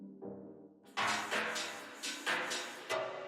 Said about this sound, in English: I put this drum loop into here, like I said, and what I did was I set it to a C minor chord